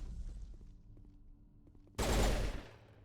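Turret gunfire in the game Mass Effect breaks out as a loud, dense burst of rapid shots. It follows a quieter stretch of low game ambience.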